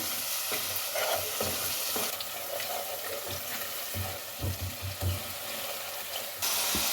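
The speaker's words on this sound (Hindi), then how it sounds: "अब इसको मिक्स कर लें और मसाले के साथ अब इसको भून लें।" Spices with turmeric and ground fenugreek sautéing in a pan for turnip sabzi, a steady close sizzle with low stirring thumps and scrapes throughout, no voices.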